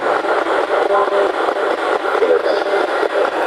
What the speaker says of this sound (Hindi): ये नॉइज सुन रहे हैं, ये वाइट नॉइज है।